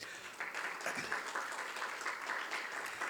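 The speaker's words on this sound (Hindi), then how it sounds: "हाँ प्लीज़ ज़ोरदार तालियाँ।" Audience at a Dastangoi storytelling performance at a literary festival applauds, steady hand clapping at moderate volume that swells slightly after a brief start and carries on evenly.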